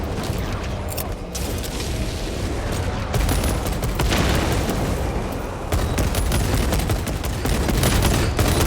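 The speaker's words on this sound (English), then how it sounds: "Throwing frag grenade!" A frag grenade detonating amid sustained gunfire and booming battle noise in Warhammer 40,000: Space Marine 2, a loud, dense wall of shots and blasts with no pauses.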